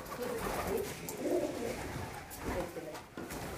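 Soft, low pigeon cooing repeats in gentle phrases in a temple courtyard in Jharkhand, India, against a murmur of distant background noise, faint voices mixed in.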